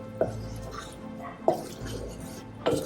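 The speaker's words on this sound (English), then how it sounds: "I'm going to just stir this all together and over this" A spoon stirs a thick, lumpy mixture in a pot over heat, giving three distinct scraping clinks against the pot spaced about a second apart over a low steady background, with no talking.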